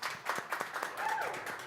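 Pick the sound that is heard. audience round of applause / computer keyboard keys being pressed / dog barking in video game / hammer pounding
audience round of applause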